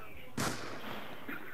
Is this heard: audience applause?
no